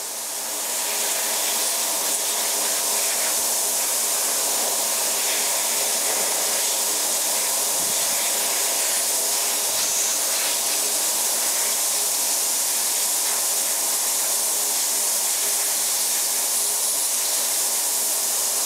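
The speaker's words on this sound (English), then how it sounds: "Hit it with a quick blast of compressed air." Compressed air blasting continuously at a part after ultrasonic cleaning, a loud, steady broadband hiss held for the whole stretch with no pauses.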